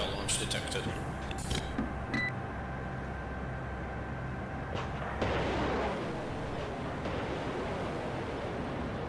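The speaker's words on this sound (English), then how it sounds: "Missile launch detected." Missile launches and explosions in the Cold Waters naval combat game, a Kiev against the Iwo Jima, with sharp crackling launch bursts followed by a sustained roaring rush of broadband noise and rumble, loud and continuous.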